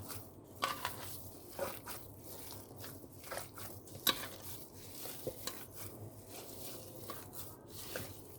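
Kofta mixture is mixed by hand as soft, irregular squelches and light taps, with occasional sharper clicks, quiet and close.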